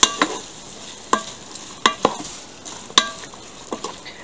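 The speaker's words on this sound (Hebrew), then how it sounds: "אני אתן לזה משהו כמו 3-4 דקות של טיגון" Vegetables for a mixed-vegetable pasta fry in a pan under a steady soft sizzle, while a utensil scrapes and knocks against the pan in sharp, irregular strokes roughly every second.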